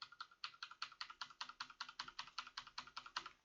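GMK plastic keycaps without O-rings bottom out in a steady run of about fifteen crisp, clacky keystrokes, plastic striking plastic at a brisk, even typing rhythm, close up and alone.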